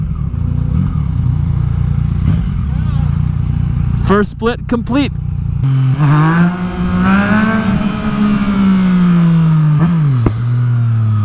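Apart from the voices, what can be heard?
KTM Super Duke motorcycle engine revving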